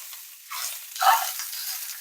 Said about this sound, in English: nice hot pan when you're going to be searing this up